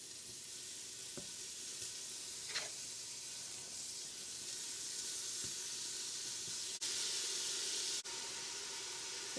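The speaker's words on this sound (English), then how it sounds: "And now the sizzle of bacon." Bacon sizzles in a hot pan with a little oil, a steady close hiss and crackle that carries on unbroken, with a few soft clicks and pops along the way.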